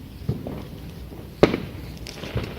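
Fireworks crack and bang outdoors on bonfire night, a few separate sharp reports at irregular intervals with one loud close blast in the middle, over faint background noise.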